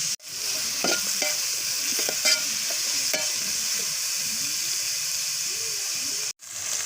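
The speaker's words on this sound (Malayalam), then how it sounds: "നന്നായിട്ട് ഇളക്കി കൊടുക്കാം." Onions, ginger and garlic sizzle in oil for a Kerala-style crab roast, a loud continuous hiss with scattered scraping and clinking of a spatula stirring the pan up close, cutting off briefly near the end, with no voices.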